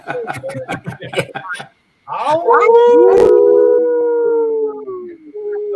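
At the close of a live comics show, a group of people imitate wolves: chuckles and laughter give way to loud, drawn-out howls from several voices overlapping.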